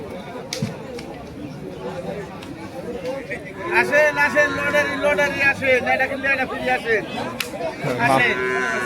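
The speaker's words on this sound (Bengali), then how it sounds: "সাইফুল ভাই কিন্তু তার একটা গরু কিনে দিতে যাচ্ছে, কিন্তু ব্যাপারী দিতে যাচ্ছে না।" Cattle at a village livestock market low in long, drawn-out moos, several calls close by over a background of crowd chatter and people talking.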